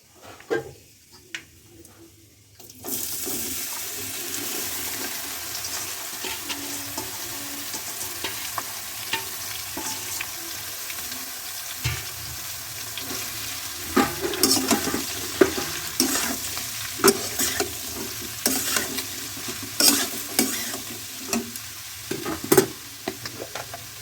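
Chopped bottle gourd is added to hot oil with five-spice tempering, dried red chilli and bay leaf, setting off a steady close sizzle while a spatula scrapes and stirs in irregular, clattering strokes.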